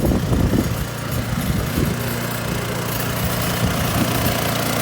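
A snowblower engine runs steadily, its exhaust piped through a hose into mole tunnels, giving a loud, continuous low rumble with an even throbbing pulse and no talk.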